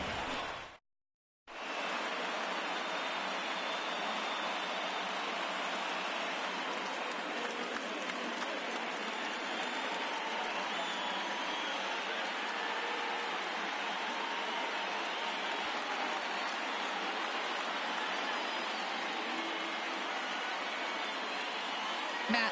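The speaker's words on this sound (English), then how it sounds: "light rain is in the forecast throughout most, if not all, of the game" Light rain falls in the baseball video game MLB The Show 19, a steady broadband hiss like soft rain or distant crowd noise that continues unbroken for over twenty seconds after a brief silent gap.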